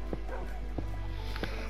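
Dogs at home giving a few short, sharp yips and barks spaced across under two seconds, fairly faint over a steady low hum with some background voice.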